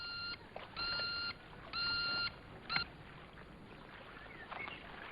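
The bleeper device from From Russia with Love emits a series of short, bright multi-tone electronic beeps at uneven intervals over a faint hiss, with no one speaking.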